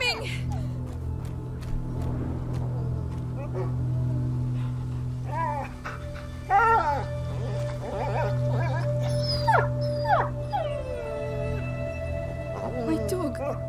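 A dog whimpers and howls in the video game A Plague Tale: Innocence, with several drawn-out rising and falling cries over steady low game ambience and character voices.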